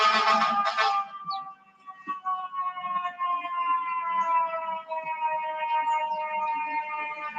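A siren wails outside, its steady wavering tones running through the whole stretch at moderate distance, with a brief burst of clatter at the start and no talking.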